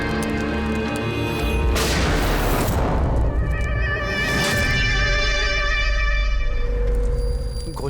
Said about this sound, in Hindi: गोली चलने की आवाज थी यार